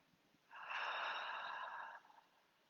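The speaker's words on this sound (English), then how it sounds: "and breathing out through the mouth." A single slow exhale through the mouth during a grounding meditation, a soft airy whoosh lasting about a second and a half, close and gentle against a quiet background.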